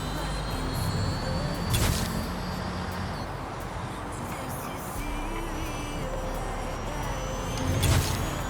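A NIO EP9 electric supercar whines steadily while driving in Forza Horizon 5, with pitch shifts as it downshifts and brief louder bursts near the start and end.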